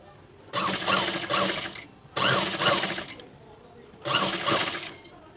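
A sewing machine stitches the seams of a designer blouse (choli) in three loud, steady bursts of rapid whirring with short pauses between them.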